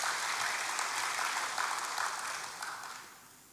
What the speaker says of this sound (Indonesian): Berikan tepuk tangan dulu bagi Tuhan.